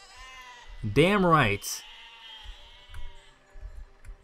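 A sheep in the video game Beisige lets out one loud, wavering bleat up close, followed by a brief voice speaking and quiet background sounds.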